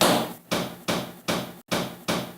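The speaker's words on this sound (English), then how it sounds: "Now we'll give it a couple flat hand taps on the outside" Flat hand taps on the windshield weatherstrip of a 1961-1966 Ford truck land as five evenly spaced, fairly loud thumps, each decaying quickly, with no talk.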